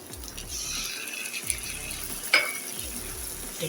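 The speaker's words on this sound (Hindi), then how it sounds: "जब तक हमारा जो मसाला टमाटर फ्राई हो रहे हैं" Tomato paste fries with onions and asafoetida in a pan for a rajma masala, giving a soft, steady sizzle close by, broken by a few light stirring knocks.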